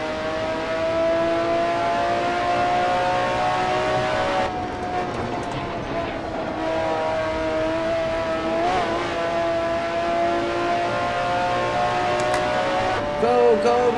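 McLaren F1 GTR race car engine in Assetto Corsa at Spa Francorchamps, a steady loud tonal drone with shifting pitch as the car runs, dipping briefly near the middle and rising again at the end, with no talk over it.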